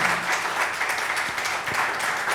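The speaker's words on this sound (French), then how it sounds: "Ce tonnerre d'applaudissements est pour toi Philippe, mon ami et pianiste Philippe de Kock." Live audience applause for a pianist after a song at a cabaret performance, a full, steady roar of many hands clapping at moderate loudness without a break.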